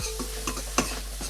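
Vegetables with onions and black mushrooms get pushed around a hot pan for fried rice, a short sizzle with a few scraping stirs close up.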